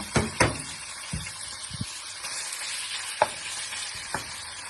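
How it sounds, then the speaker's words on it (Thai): Sliced pork and garlic stir-fried in a hot pan, with a steady background sizzle broken by several sharp scrapes and clacks of a utensil against the pan, spaced irregularly and close by. "เราก็จะลวนหมูก่อนนะคะ"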